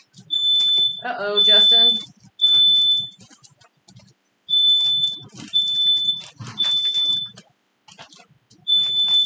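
A kitchen smoke detector shrills in repeated high beeping bursts with short pauses between them. People talk in the foreground while it sounds, with cooking noise in the background.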